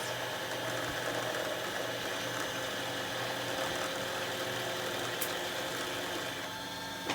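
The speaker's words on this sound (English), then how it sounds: "The machine will actually stop by itself once the bobbin is full." Sewing machine motor winding a bobbin with thread: a steady, continuous close whir that holds an even level throughout, with no talk.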